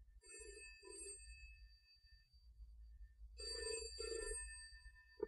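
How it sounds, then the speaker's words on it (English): A telephone bell rings in two double bursts, close and fairly loud over a low hum, with a short pause between the pairs and a brief knock at the end. "Answer the phone."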